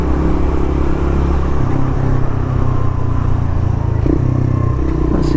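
A Suzuki RV125 VanVan motorcycle being ridden on the road in West Wales, its engine droning loud and steady with wind rush throughout.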